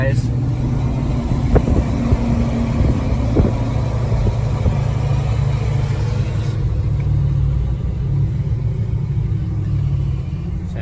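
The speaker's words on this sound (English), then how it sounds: "Exhaust brake for you guys." A Ford F-250 with the 6.7 Powerstroke diesel and a 4-inch straight pipe, towing with the exhaust brake engaged: a loud, low, steady rumbling drone inside the cab, with someone talking briefly over it.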